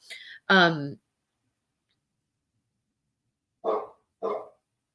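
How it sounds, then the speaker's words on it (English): A dog barks once sharply, then after a pause gives two shorter barks, moderately close in an otherwise quiet space. "Now that's Callie barking"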